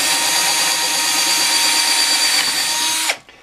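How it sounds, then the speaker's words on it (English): A power drill bores through a guitar pickguard mounting bracket, a steady high whine lasting about three seconds that cuts off abruptly at the end. "I'm just going to drill through"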